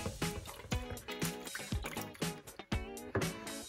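A spatula stirs yeast and sugar into water for pizza dough, making close, rhythmic wet sloshing and squishing strokes that repeat quickly throughout.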